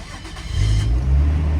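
A Nissan Skyline R34 sedan engine runs on a cold day near freezing, a steady low rumble that swells louder partway through and holds, close by with no talking.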